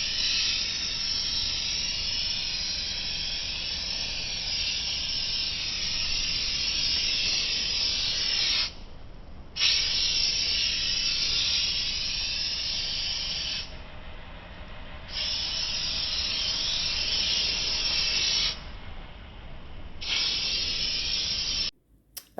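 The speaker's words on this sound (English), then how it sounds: "I'm going to go ahead and sand it smooth one more time, still using a 220 grit on it" Sandpaper of 220 grit rasps across an old wooden CD cabinet top in a long, steady hiss, broken by a few short pauses between passes, close and continuous without talk.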